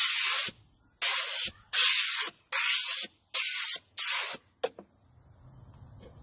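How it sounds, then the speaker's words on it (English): Compressed air blasting debris out of a cab seat rail track in six loud, evenly spaced hissing bursts, each about half a second long, followed by a brief puff and a quiet tail. "Blow it out just a little bit more to make sure that it's clean."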